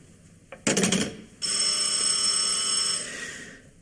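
An old telephone rings in a quiet room: a short click and rattling burst, then one long, loud, bright ring that holds for about a second and a half before cutting off.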